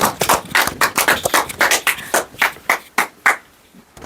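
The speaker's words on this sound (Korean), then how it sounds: "박수로 환영해 주세요." An audience claps in welcome, a burst of uneven, scattered handclaps lasting about three seconds before tapering off to quiet.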